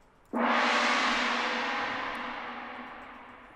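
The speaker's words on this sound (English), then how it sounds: "to sum up the whole Chinese percussion section, we have the gong" A single Chinese gong is struck once, blooming into a bright, shimmering wash that slowly decays while ringing on, loud and alone.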